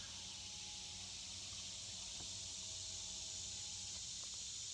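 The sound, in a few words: cicadas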